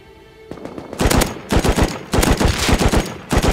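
Automatic rifle fire in the game Rust comes in loud, close bursts of rapid shots separated by short pauses, with a final short burst at the end.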